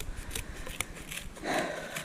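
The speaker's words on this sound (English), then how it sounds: "I'm just going to cut this out with some scissors" Scissors snip through sheet metal several times in quick succession, short crisp cuts close by, followed by a longer scraping sound, with no talking.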